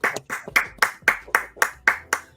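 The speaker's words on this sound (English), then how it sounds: "Can we get a round of applause?" Steady rhythmic handclapping, about nine sharp, evenly spaced claps at a brisk pace, close and clear with no talking over them.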